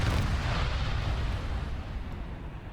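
Heavy gunfire and an explosion in the video game Arma 3 make a loud, booming blast that rolls out into a rumbling tail and slowly fades, with no voices over it.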